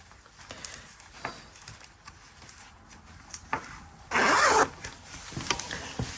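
A zipper is pulled along an invisible zip during sewing, one quick, close, raspy zip lasting about half a second amid soft handling and fabric rustles.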